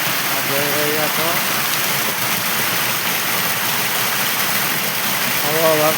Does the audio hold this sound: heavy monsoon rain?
yes